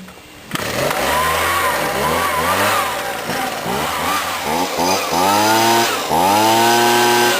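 A Husqvarna 125B leaf blower with a newly replaced, ethanol-damaged fuel line fires up abruptly after a short quiet moment, then runs loud and close, its small engine revving up and down in repeated bursts.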